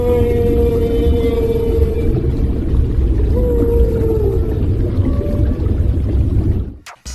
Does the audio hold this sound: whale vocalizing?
yes